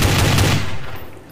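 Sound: machine gun fire in video game Counter-Strike: Source

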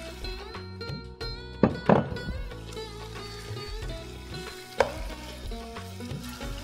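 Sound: chicken frying with garlic ginger paste

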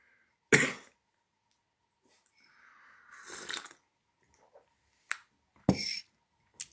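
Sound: cough

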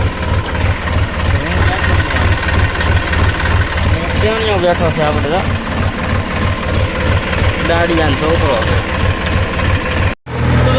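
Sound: tractor engine running

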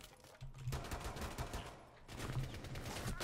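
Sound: gunfire in the video game Rainbow Six Siege

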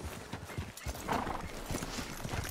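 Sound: horse hooves and whinny in Red Dead Redemption 2 video game

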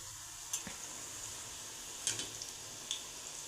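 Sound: cauliflower pakodas sizzling while deep frying in oil

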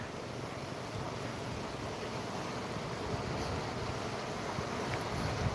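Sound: fast-flowing water of the Sutlej river

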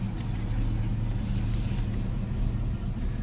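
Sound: 1959 Cadillac engine exhaust without resonators

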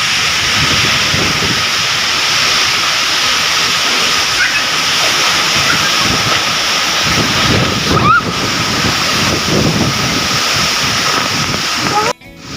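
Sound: hailstorm, large hailstones falling

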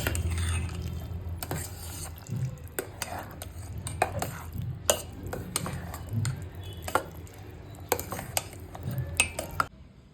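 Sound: stirring sweet pongal with cashews, raisins, coconut in pot

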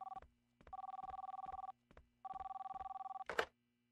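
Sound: telephone ringing in the video game The Long Reach

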